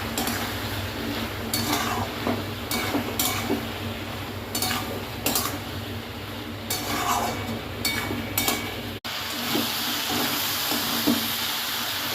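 Vegetable and egg curry with poppy seed paste, turmeric and chilli powder sizzles steadily in a pan, punctuated by repeated scraping and clinking of a spatula against the metal.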